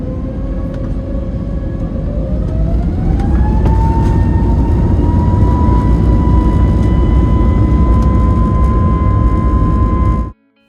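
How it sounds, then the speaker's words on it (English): Kuwait Airways Airbus A320 jet taking off from Dubai in a sandstorm, heard from inside the cabin as a loud steady engine roar with a rising whine that climbs and holds, cutting off abruptly at the end. "I will let you enjoy this fantastic takeoff in the sandstorm."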